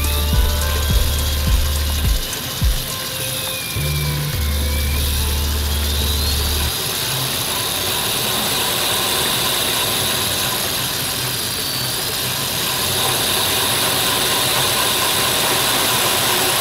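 A prototype spinning-rocket camera assembly turns on a lathe, giving a steady mechanical whir and ratcheting clatter; a low motor hum pulses for the first few seconds, then the even whirring runs on alone.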